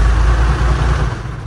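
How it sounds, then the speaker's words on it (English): Cummins diesel engine swapped into an Oldsmobile, running at a loud, steady low rumble close by with no voices. "I've got the motor starting off of the factory switch."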